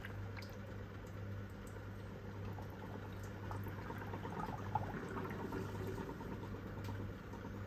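A QFlow washing machine flushes water during its soft cycle, a low, steady sloshing and gurgling inside the drum under a constant motor hum, quiet and even throughout.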